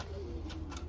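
Pigeons coo in a loft of breeding birds, including grizzle and Cuban stock, giving a low, steady rolling coo close by over a faint background hum.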